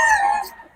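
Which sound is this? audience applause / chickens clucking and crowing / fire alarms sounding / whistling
chickens clucking and crowing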